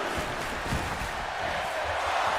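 Arena crowd chanting "this is awesome" in a digital pro wrestling video game, a dense, sustained roar of voices with rhythmic swells throughout, mixed with commentary.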